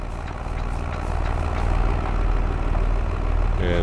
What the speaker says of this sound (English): I think our engine will shut off automatically if I don't use it long enough